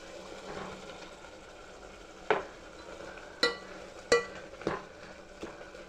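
Rice is stirred into boiling dal for mudda pappu, with soft bubbling underneath and several sharp scrapes and clinks of a spoon against the pot.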